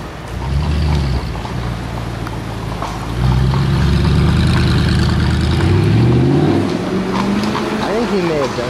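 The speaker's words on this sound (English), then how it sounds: "that exhaust sounds like it's a 1970. Like 428 Cobra jet" A rear-engine car on a Vienna street rumbles low and steady at close range, its deep exhaust note swelling partway through, while people talk over it.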